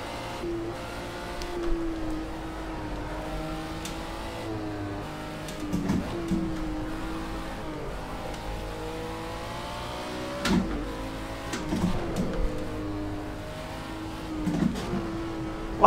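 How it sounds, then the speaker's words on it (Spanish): A BMW M1 race car in the Project Cars 2 racing game revs through a city race, its engine note rising and falling with sharp backfire pops on downshifts, repeated every few seconds. "como en las bajadas del coche en las reducciones. Pega unas explosiones de la hostia"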